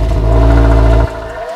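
A 2022 Subaru WRX's 271-horsepower 2.4-liter turbocharged boxer four-cylinder holds a loud, close, buzzing rev for about a second, then abruptly drops off to a lower hum.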